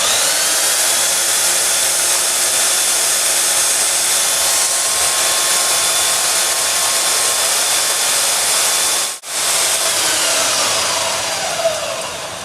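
Belt sander running with a steady loud whine and broad motor roar close by, cutting out for a split second midway before continuing at full speed.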